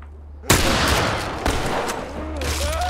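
Gunfire in The Last of Us Part I video game: a sharp, loud shot opens a burst of rapid rounds and echoing blasts that ring on for a couple of seconds.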